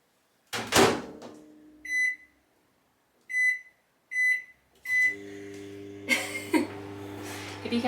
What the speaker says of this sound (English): I'm just gonna put this in the microwave.